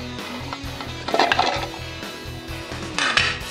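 Tomato slices tumble into a plastic vegetable chopper bowl, giving light clattering knocks over a steady pulsing low rumble, with a louder cluster of clunks partway through and another near the end.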